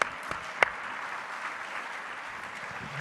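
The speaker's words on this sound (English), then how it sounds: "A huge round of applause to everybody." Crowd applauding on the main stage of a Comic Con convention in a large hall, a soft, distant wash of clapping with a couple of sharper claps near the start, faint and steady.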